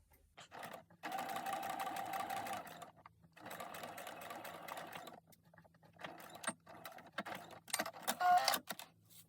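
A sewing machine sews a straight stitch at length 3 along a narrow seam on knickers, running in several whirring bursts with short pauses between them, close and clear.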